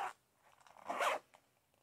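A zipper on a pencil pouch is pulled open in two quick rasping strokes, close and quiet, with a soft rustle after.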